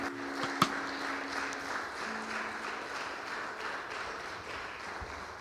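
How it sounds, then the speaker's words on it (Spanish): Church congregation applauding, a faint, continuous patter of clapping from a distance that holds steady after one sharp knock near the start. "Dale un fuerte aplauso."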